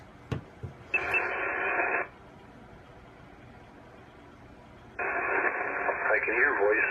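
Two bursts of electronic warbling tones from a digital signal on HF ham radio, one short and one longer, sound over a quiet background, with a couple of sharp clicks at the start.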